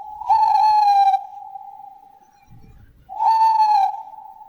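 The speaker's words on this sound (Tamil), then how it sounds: "ஆந்தை அலறும்." An owl's hoot rings out twice, each call a long clear tone separated by a quiet gap, loud and close against a faint hum.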